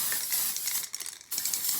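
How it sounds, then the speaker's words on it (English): A Design Master glitter spray can hisses over a silk bridal bouquet, a soft, close aerosol spray with a brief pause partway through before spraying resumes, no talking. "So I just give it a quick little spray."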